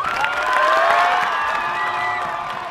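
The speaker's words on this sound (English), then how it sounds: "So the big cheering is, of course, for the Paarl Gimnasium players as they come out" Schoolboy rugby crowd at an interschools match between Paarl Gimnasium and Paul Roos, cheering and shouting loudly as the Paarl Gimnasium players run out, a sustained roar of many voices swelling and holding without any clear speech.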